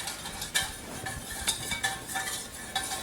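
A whisk stirs beef and broccoli sauce in a bowl, quick scraping and clinking strokes with faint metallic ticks, close and soft, repeating in an irregular rhythm.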